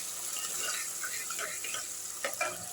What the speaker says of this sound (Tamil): இது கொஞ்சம் மசியாக வதங்கட்டுங்க.